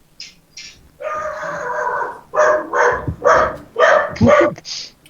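A dog barks in a quick series of sharp, close, loud barks with short yips in between, heard alone with no talking.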